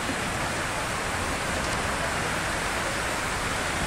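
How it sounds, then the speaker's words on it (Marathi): Heavy rain pours steadily, a dense, even roar of rainfall with no breaks, filling the whole stretch without any voices. "हे बघा, आता पाऊस खूप जोरात चालू आहे"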